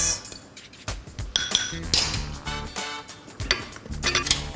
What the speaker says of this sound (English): Just going to lightly mix this.